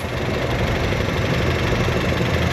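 A Honda Civic engine idles in an auto repair shop, a steady, close, continuous rumble with even vibration and no talking.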